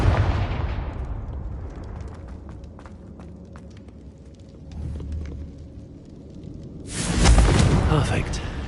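Confringo fire spell blast in Hogwarts Legacy, a burst of loud, rumbling blast noise with crackling debris, followed by a second surging blast near the end.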